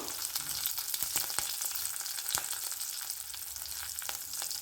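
Curry leaves and chopped green chillies fry in hot oil, giving a dense, steady sizzle with crackles and occasional sharp pops, close and continuous.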